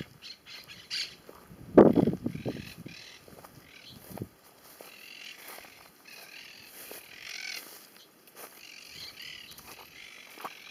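Birds calling around overgrown countryside along an old rail line, with one loud harsh squawk near the start and fainter scattered calls and chirps over a quiet outdoor background.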